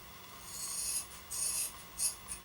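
Dreadlocked hair being cut, heard as four close raspy scissor strokes through thick matted hair, each a short rough crunch separated by brief pauses.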